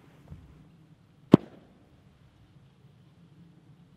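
A single sharp, loud gunshot fired at a stack of cookbooks outdoors, one close crack that decays quickly, with a faint softer thump before it and quiet otherwise.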